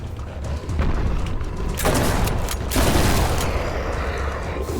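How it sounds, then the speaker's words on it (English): Shotgun blasts in the horror video game In Sound Mind, several loud booming shots close up, each with a sharp burst and a heavy low rumble trailing between them, with no talk. "Who'd have thought a shotgun would work a lot better up close?"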